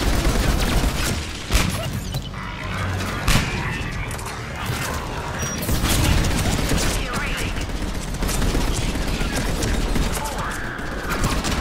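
A grenade blast and rapid bursts of gunfire in a Mass Effect 3 firefight, a dense, continuous barrage of loud shots and mechanical clatter with a few sharper impacts standing out.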